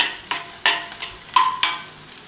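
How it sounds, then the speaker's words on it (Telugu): Onion and green chili pieces frying in an oil tempering for a coconut curry, a bright sizzle broken by several distinct stirring scrapes at roughly half-second intervals. "ఈ తాలింపును దోరగా వేయించుకోవాలి."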